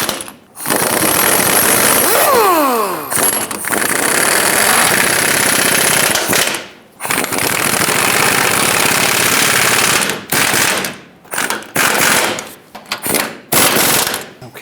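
An impact wrench tightens the steering box bolts onto the frame of a Chevrolet Silverado 2500 HD, loud sustained rattling hammering in several long bursts separated by short pauses, with a few brief final blips.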